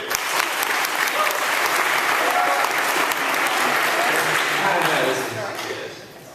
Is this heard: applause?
yes